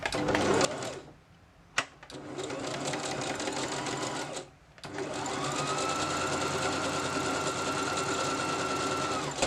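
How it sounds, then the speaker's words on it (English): A sewing machine stitches the front seam of a garment, a loud steady mechanical whir that runs, pauses briefly twice, then resumes in a long continuous run. "we're going to be sewing the second half of our front seam"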